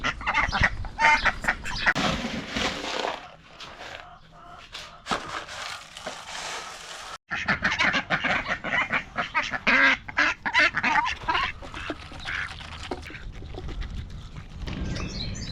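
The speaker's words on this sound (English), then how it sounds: "these ducks are just harassing me" Ducks and geese honk and quack loudly and repeatedly at close range, a busy overlapping clamor with a short break midway.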